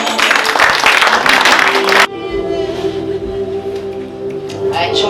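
Worship congregation at a Thursday prophetic church service clapping their hands for Jesus, a dense, loud burst of applause for about two seconds that cuts off abruptly, followed by a sustained organ-like tone and faint crowd noise.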